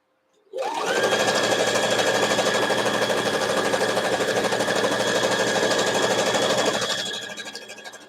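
Sewing machine sewing a border onto a Halloween fabric panel, starting abruptly and running at a steady, loud, rapid hum for about six seconds before winding down, close and alone without talk.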